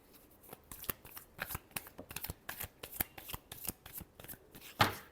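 Tarot cards being shuffled by hand in a run of quick, crisp riffling bursts, close and fairly quiet, with one louder slap near the end.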